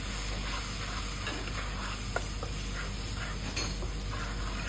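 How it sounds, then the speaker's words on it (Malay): Steady sizzling of chicken chop frying in a pan, with occasional scrapes and clinks of a utensil stirring through it, close and continuous. "Kemudian kacau dia."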